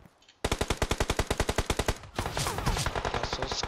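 Rapid automatic gunfire in a competitive multiplayer shooter match, a steady burst of about twenty evenly spaced shots followed by a denser, overlapping stretch of fire, loud and close.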